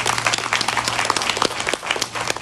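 Sustained applause from a crowd, dense steady clapping filling the whole stretch at a fairly loud level, with no talking over it.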